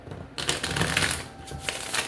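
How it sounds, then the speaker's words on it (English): Tarot cards are shuffled by hand in a room with an open door, producing a close, continuous papery riffling and flicking that lasts about two seconds. "Let's shuffle."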